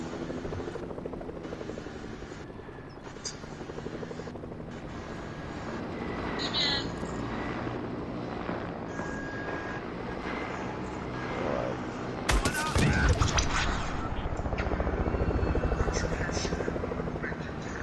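A helicopter in the Fortnite video game takes sustained gunfire: a steady rotor drone runs throughout, with a sharp, loud burst of shots near the end.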